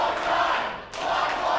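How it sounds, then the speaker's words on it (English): A wrestling audience at a PW Combat show chants and roars in the arena, forming a loud rhythmic crowd wash that dips briefly before surging again, with no clear single voice on top. "The crowd, you can hear him in the background chanting one more time."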